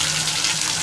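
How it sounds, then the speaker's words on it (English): A hotel sink tap runs, a close, steady rush of water pouring into the basin, loud and continuous with no voices. "So if you turn the hot knob"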